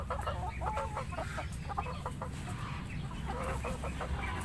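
A hen clucks repeatedly in short, fairly faint bursts over steady background noise during a livestock selection practical on a farm.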